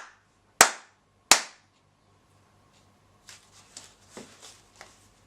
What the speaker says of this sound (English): just give it 3 claps there